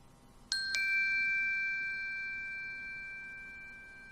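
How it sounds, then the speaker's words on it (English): A recorded bell sound is played back from a computer: two quick bright strikes in close succession, then a clear sustained ring that slowly decays over several seconds, heard alone without talk. "we're going to be playing back a bell file that I have on my desktop here"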